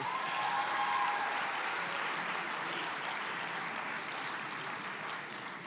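Applause from a school prize-giving audience in a hall, a broad wash of clapping that starts fairly strong and slowly tapers, with no talk over it.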